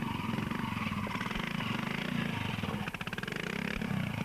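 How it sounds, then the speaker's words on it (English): A BSA 350 motorcycle engine putters steadily at a 1995 motorcycle event at Rogerham Gate, a mid-pitched throbbing exhaust that dips briefly and picks up again, heard alone at moderate distance. "Another 350 BSA, ridden by Dave Elm."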